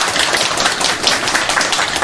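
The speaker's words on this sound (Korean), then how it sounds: "우리 한번 감사 박수 한번 하겠습니다." A church congregation applauds the choir after a hymn: dense, steady clapping from many hands, close and continuous with no voices over it.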